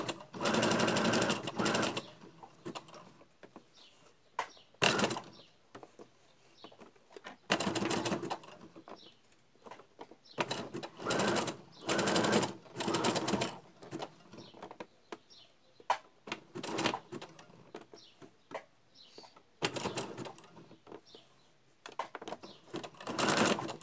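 Sewing machine stitching felt for a face mask, running in repeated short bursts of rapid mechanical whirring separated by quiet pauses, close to the microphone.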